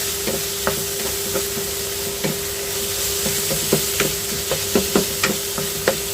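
Helencha greens stir-fried in a pan with onion, garlic and dried chili, giving a steady hiss of frying with a series of sharp spatula knocks and scrapes at an irregular pace.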